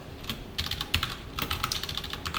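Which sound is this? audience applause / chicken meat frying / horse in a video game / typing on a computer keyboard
typing on a computer keyboard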